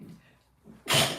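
A single sudden sneeze bursts out near the end after a quiet moment with faint breath sounds, sharp and close.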